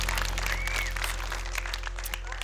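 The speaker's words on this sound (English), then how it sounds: "Give yourselves a clap now." Children in the audience of a live Bible show for kids clap together, a steady wash of applause over a constant low electrical hum, moderately distant with no clear voices.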